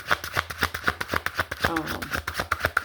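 Slick, flexible tarot cards being shuffled by hand, a rapid run of crisp riffling snaps repeating in a steady rhythm, close and fairly loud, with a voice speaking underneath.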